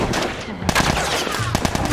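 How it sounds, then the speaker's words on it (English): Automatic gunfire in The Last of Us rattles in rapid bursts of sharp shots, close and loud, over a steady game backdrop for about two seconds. "Machine guns?"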